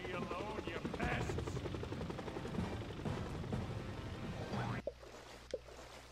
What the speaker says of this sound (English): now we're going to get four helicopters on Plankton's ass